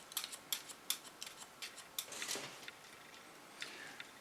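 Scissors snip hair during a short asymmetrical pixie cut, giving a quick series of crisp, close metallic clicks that thin out toward the end.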